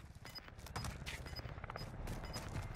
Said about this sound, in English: I'm getting shot somewhere.